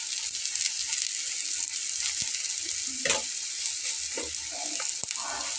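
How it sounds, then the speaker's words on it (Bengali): A single-egg dish fries in a pan with a steady close sizzle, punctuated by a few stirring scrapes and clinks. "তো ওইটিকে একটু লাল লাল করে ভেজে নেব।"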